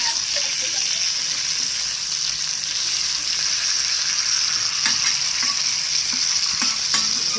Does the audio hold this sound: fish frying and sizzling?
yes